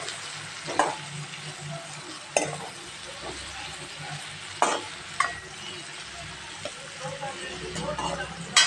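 Onions and tomatoes frying in a pan for a dill-leaf gravy, a continuous soft sizzle broken by several sharp scraping stirs of the spoon against the pan, with a voice speaking over it.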